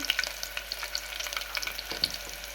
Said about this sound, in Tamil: இப்போ வெங்காயம் ஆட் பண்ணிக்கலாம். நல்லா வதங்கியாச்சு.